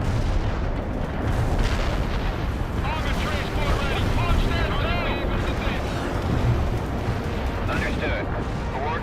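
Artillery fire in the war strategy game World in Conflict, a steady dense rumble of booming shots and blasts that runs throughout, mixed with game radio voices and battlefield noise.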